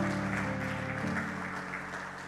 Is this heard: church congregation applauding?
yes